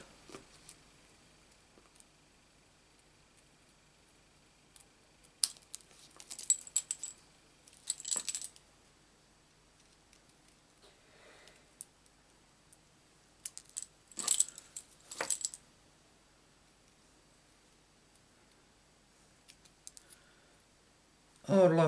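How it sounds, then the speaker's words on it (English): Scissors snipping through black card stock while trimming a papercraft greeting card, a few short crisp cuts in separate bursts with quiet gaps between them, close and fairly faint. "all I'm doing is just cutting the black away at an angle so it's away from the silver."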